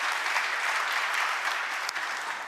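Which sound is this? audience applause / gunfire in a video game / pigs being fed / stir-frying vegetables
audience applause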